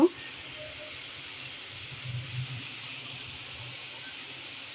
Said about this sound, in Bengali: আর এখন আমি মশলাটা ভেজে নেব